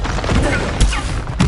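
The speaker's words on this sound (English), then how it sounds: "Expelliarmus!" Expelliarmus is cast in the video game Hogwarts Legacy amid combat: rumbling effects with two heavy thumping impacts, the second near the end, over a busy mix.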